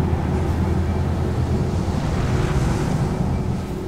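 Wind gusting across open desert in the video game Journey, a steady broadband rush with faint swells, continuous and fairly loud throughout, no voices.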